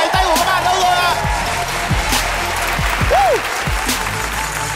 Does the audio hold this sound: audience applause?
yes